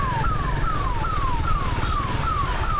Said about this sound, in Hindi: उनको पीछे से एम्बुलेंस के सायरन का साउंड आ रहा है बिल्कुल